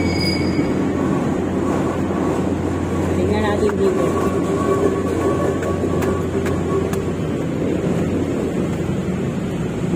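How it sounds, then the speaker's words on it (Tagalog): A long train rolls past on the tracks beside the Philippine National Railways right-of-way, with a steady heavy rumble of wheels and cars throughout, close and loud, while someone speaks over it. "Mahaba itong tren na to."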